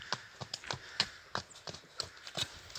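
A horse with a rider approaches outdoors, its hooves clip-clopping in an uneven series of sharp, fairly faint strikes at moderate distance.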